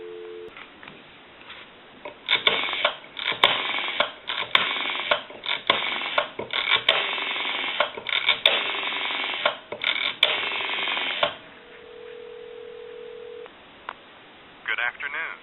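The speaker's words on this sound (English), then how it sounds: "I'll give you some dial tone." A Kellogg rotary telephone gives narrow, tinny line audio with bursts of voice-like sound, then a brief steady dial tone hums alone near the end.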